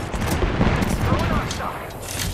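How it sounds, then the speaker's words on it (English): Knuckle Buster weapon firing in Apex Legends, a dense burst of gunfire and game action running steadily throughout, loud and close with no clear pauses. "Knuckle Buster's firing."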